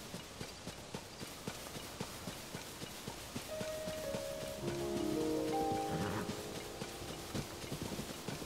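Horse hooves clip-clop in a steady rhythm in the video game Zelda: Tears of the Kingdom, with rain and game music tones rising over the hoofbeats midway.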